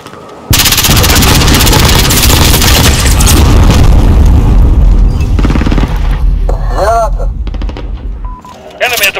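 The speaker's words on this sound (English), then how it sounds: "Stop shooting me!" Heavy, near-continuous automatic gunfire with booming blasts fills a Call of Duty MW2 multiplayer match, loud and dense for most of the stretch. A brief voice cuts in near the end.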